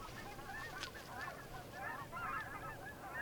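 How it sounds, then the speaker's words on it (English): A flock of migrating geese honking in flight overhead during a hunting ground sit, repeated overlapping calls, moderately distant, with light background noise. "The flight's coming, boys. Birds are coming."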